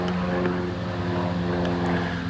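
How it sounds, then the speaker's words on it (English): A low-flying propeller airplane passes near a park, its steady droning hum continuous and moderately loud throughout, with no talking. "airplane that sounds pretty low."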